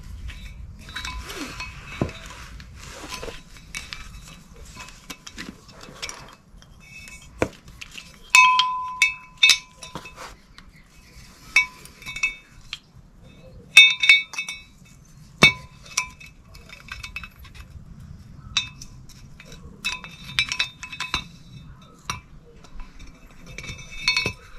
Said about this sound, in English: So I'm going to be putting my new rotor on my hub.